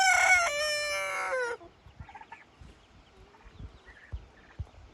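A rooster crows loudly and close in a farm coop, one long harmonic call lasting about a second and a half, followed by faint scattered clucks and soft thumps.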